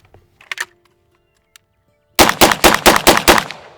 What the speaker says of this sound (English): When you hear that loud bang in the background